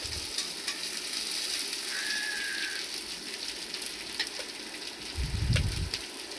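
Sprouted green gram stir-frying in a pan, a continuous bright sizzle with scattered crackles and a brief low thump near the end, no voices.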